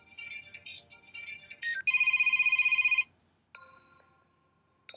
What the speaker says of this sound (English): You can tap on each potential ringtone and see how you like it.